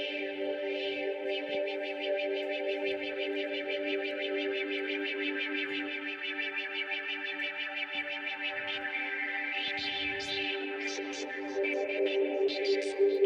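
Virtual Arp Quadra synth patch with a sample-and-hold LFO stepping the filter, giving a continuous chorused, effected pad whose tone jumps randomly throughout, loud and steady with no talking.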